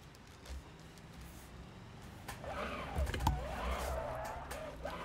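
A taxi in BeamNG.drive skidding through Rockford turns, engine revving and tires scrubbing in a rising burst of noise about halfway through, fairly faint overall.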